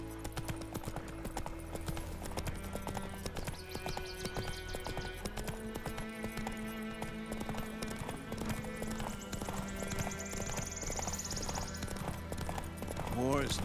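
Steady horse hooves clip-clop in a continuous trotting rhythm in The Witcher 3: Wild Hunt, with game music and voices playing underneath.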